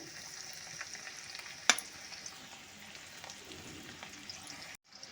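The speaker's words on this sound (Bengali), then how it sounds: "একটা শুকনো লঙ্কা আর জিরে তেজপাতাটা ফোড়ন দিয়ে দিচ্ছি।" Chopped garlic and onion fry in oil with dried red chili, cumin and bay leaf, giving a soft, steady sizzle. A sharp stirring clack cuts in once, and the sizzle drops away abruptly near the end.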